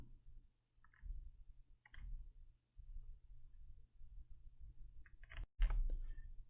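Computer mouse clicks during work in a Canva design template: a few sharp, isolated clicks spaced apart over a low background hum, with a louder cluster of clicks near the end, close and fairly quiet.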